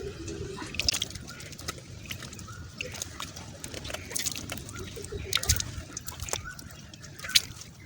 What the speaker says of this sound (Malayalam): ഇനി നമുക്ക് വെള്ളം വെച്ച് കാലൊന്ന് കഴുകിയെടുക്കാം.